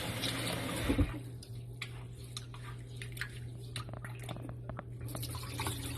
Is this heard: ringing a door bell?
no